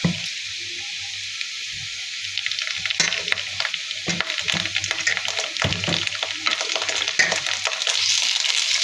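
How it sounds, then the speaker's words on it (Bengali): Ginger-garlic paste hits hot oil over already-fried onions in a pan for beef tripe bhuna, giving a steady close sizzle broken by scraping stirs and clicks of the spoon. "আদা রসুনটা ভেজে নেব।"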